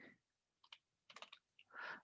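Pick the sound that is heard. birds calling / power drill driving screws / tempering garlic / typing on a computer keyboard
typing on a computer keyboard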